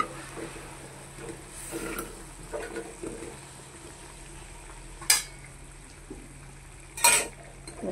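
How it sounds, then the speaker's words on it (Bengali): Lentil dumplings (bora) are dropped into a simmering curry in a pot. A low, faint bubbling hiss plays under soft stirring, with a few sharp spoon clinks against the pot and no talk. "এবার এই যে বড়াগুলো, এগুলোকে এর মধ্যে দিয়ে দেবো"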